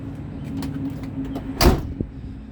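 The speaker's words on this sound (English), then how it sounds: "That's the way a door is supposed to sound when it shuts." A heavy door on a 1976 Ford F150 4x4 pickup truck shuts once with a single solid, weighty thunk, followed by a smaller knock, against a low steady hum.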